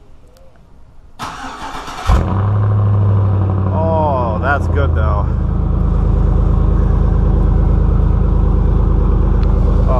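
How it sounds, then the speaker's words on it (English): A Chevy Silverado engine fires up by remote start, a short cranking burst giving way to a loud, steady, deep exhaust rumble that holds close for the rest of the clip, with brief talk over it. "We will fire up the Chevy first, because I like the Ford sound the best."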